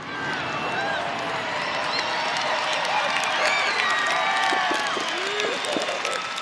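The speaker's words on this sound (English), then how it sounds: "Applause." Audience applause at a talk show honoring Shirley MacLaine, a steady dense wash of clapping with a crowd murmur and a few whoops or cheers, filling the whole stretch at an even level.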